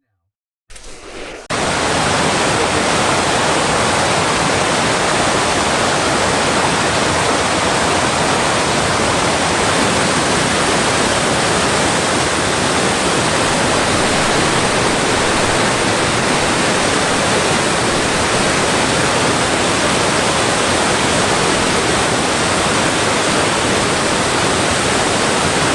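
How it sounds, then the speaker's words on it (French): River water rushes through narrow rapids between rocky bends in the Canadian wilderness, a loud, constant broadband roar that starts abruptly and holds steady without a break. "il franchit d'étroits rapides."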